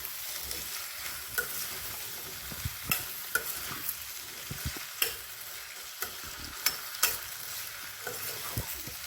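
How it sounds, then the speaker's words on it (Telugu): A cauliflower, garlic and green chili mixture is stirred in an oiled pan. Irregular scraping clinks of the spoon sound up close over a low, steady sizzle, with no talking. "ఇవన్నీ మొత్తం బాగా కలిపి"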